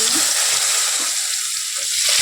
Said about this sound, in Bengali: বড় বড় দুটো সাইজের মাথা নিয়ে নিয়েছি মাছের। আমি ভেজে নিচ্ছি।